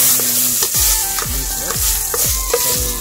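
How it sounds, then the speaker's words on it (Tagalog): Garlic and onion sautéing together in hot oil for a mung bean dish, with a steady loud sizzle and repeated scraping stirs of a spatula about every half second, close up and alone. "bigisa na po natin yung bawang at sibuyas at the same time"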